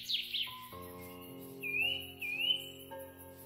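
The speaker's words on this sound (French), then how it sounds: "Oh, un oiseau encore." A small bird in TerraFirmaCraft chirps and whistles in short rising and falling calls over a steady ambient game tone, fairly close and clear, with no talk.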